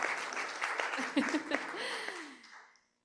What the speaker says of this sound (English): You can't see us all, but we're all clapping ahead.